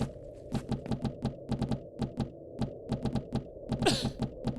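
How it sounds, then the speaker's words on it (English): Typewriter keys clack in the horror video game Ikai, sharp mechanical strikes arriving in quick irregular bursts with short pauses between, close and clear with no talking. "It's a typewriter."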